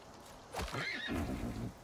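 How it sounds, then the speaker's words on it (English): A horse neighs once in the video game The Chant, a close, clear whinny rising and wavering for about a second over faint background ambience. "Oh, hey, little horsey."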